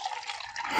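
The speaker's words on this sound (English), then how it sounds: "Any clear liquid that I'm going to pour into it," Clear liquid pours into a cup held in a pink glove, a steady close trickle and splash for about a second, rising slightly in level at the end, with no talk.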